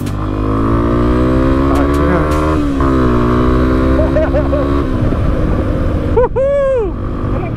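A scooter engine running while being ridden on a road, steady droning hum close by with a rise in revs, while riders talk casually over it and another vehicle passes near the end.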